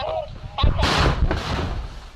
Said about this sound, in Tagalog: Dinig sa di kalayuan ang mga pagputok.